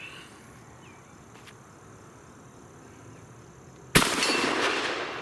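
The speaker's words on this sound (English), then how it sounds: "Let's go ahead and sling one up there, see if we can hit that 12-inch plate." A Fusion Firearms Bull Prime shotgun is fired at a 12-inch steel plate outdoors: one loud, sharp blast comes after a quiet stretch and trails off into a lingering rumble.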